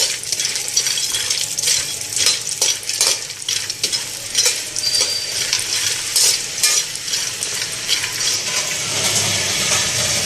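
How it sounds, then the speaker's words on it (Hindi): Walnuts and other ingredients sizzle while roasting in ghee in a pan, with a spoon scraping and clinking in steady stirring strokes close up. "बस हल्का से इनको मैंने रोस्ट किया घी के अंदर।"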